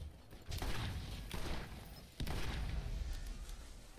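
Enemy gunfire in the game Borderlands, a few dull, fairly quiet bursts of shooting arriving in separate waves over a low background rumble.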